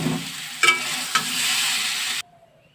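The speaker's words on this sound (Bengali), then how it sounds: "কুমড়োটাকে ভালো করে একটু ভেজে নেব" Pumpkin pieces fry in a pan with a bright, close sizzle, broken by two sharp utensil knocks from stirring, before the sound cuts off abruptly.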